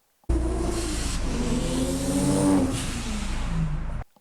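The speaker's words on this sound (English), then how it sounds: "The top-speed Autosport GT-R, from what I've heard, made about 700 horsepower." A Top Speed Autosport Nissan Skyline GT-R making about 700 horsepower revs loudly and close by, its engine note climbing and holding steady for roughly four seconds with no talking.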